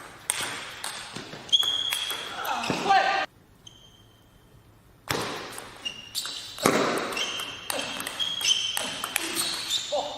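Table tennis ball bouncing in short, sharp, repeated clicks during a professional French Pro A league match, with commentators talking over much of the rally and a brief quiet gap midway.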